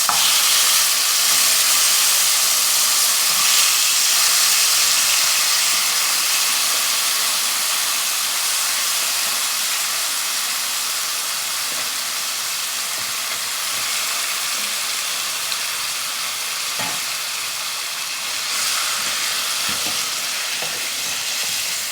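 Pork frying in a pan for home-style adobo, a loud continuous hissing sizzle held steady throughout with only faint small clinks.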